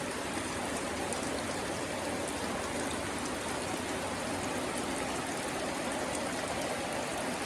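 Heavy, steady rain pours down on a farm in a dense, unbroken broadband roar with no letup, a close, loud wash of water that goes on for the whole stretch without any voices.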